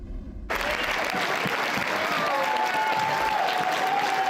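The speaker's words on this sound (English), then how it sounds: "A packed room cheering for Giordano Vaccaro, taken first overall in" A packed room at a CFL draft event bursts into sustained cheering and applause after a brief quieter opening, the dense crowd noise holding steady and loud throughout.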